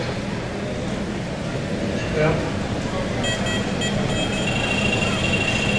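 A carp fishing bite alarm sounds rapid high electronic beeps in short bursts over steady outdoor background noise, with a brief spoken word earlier.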